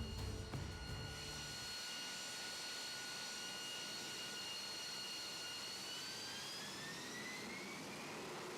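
Stealth fighter jet hovering sideways on a Rolls-Royce lift system before descending to land: a steady, loud jet roar with a rising whine, strong throughout without pauses.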